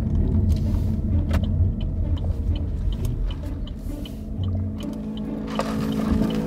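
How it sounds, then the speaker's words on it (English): A car drives at speed, its steady low engine and road rumble filling the cabin with a continuous drone and occasional clicks and rattles, heard from inside. "Why are you driving so fast?"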